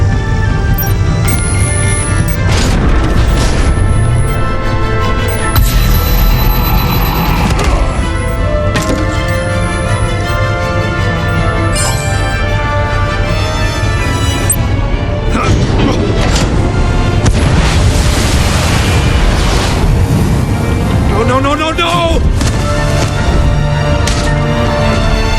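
In the Batman: The Enemy Within video game, a missile explosion lands among heavy booms, cracks and splintering crashes, all dense and loud throughout a long game-action stretch mixed with score and occasional voices.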